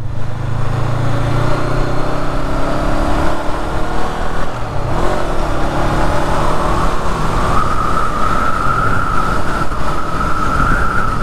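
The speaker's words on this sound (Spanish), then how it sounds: "Joder, la moto está de puta madre." A Honda CB500F A2 motorcycle engine drones steadily while riding, loud and close, with the pitch climbing as it accelerates, accompanied by wind rush.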